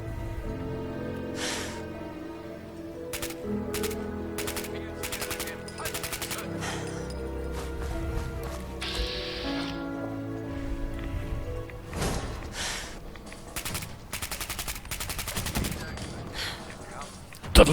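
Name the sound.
weapon gunfire in video game Fallout 4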